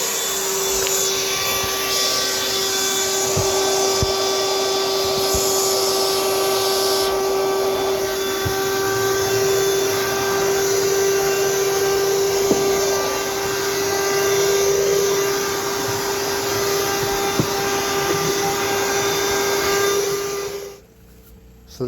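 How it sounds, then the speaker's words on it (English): A vacuum cleaner, a Ruko Mini 4, runs loud and steady, sucking up dog hair, sand and a little cat hair from under a recliner on a houseboat; its constant whining drone holds, then cuts off near the end. "So this is about 6 days worth of not vacuuming underneath the recliner."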